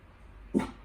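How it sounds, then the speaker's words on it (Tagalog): A single short dog bark from outside, muffled and somewhat distant, rises from a quiet indoor background. "Nakarinig siya ng ano tahol sa labas"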